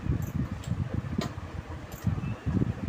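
A domestic sewing machine runs in short, rapid bursts while stitching a frill onto a pant piece, giving a low, close, pulsing mechanical whir with brief pauses and no speech.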